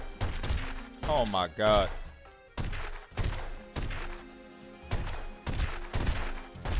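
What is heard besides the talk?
gunshots in The Godfather video game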